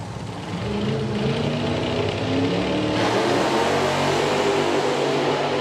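A drag racing car making a run at Santa Pod Raceway, a loud, continuous roaring engine that holds steady and close for several seconds with a slight rise partway through, no voices.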